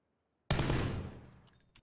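A sudden loud burst of automatic gunfire in the battle royale video game PlayerUnknown's Battlegrounds, a rapid fusillade of shots that rings out and fades over about a second.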